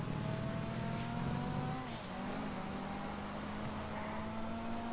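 A car engine in Grand Theft Auto V Online roars steadily close by, with a brief tire squeal and a shift in pitch near the middle, continuous with no voices.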